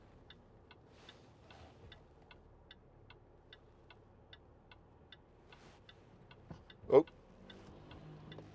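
A 2012 Land Rover Discovery 4 3.0 SD V6 automatic's turn indicator ticks steadily inside the cabin in an even rhythm, with road noise beneath and one loud thump near the end.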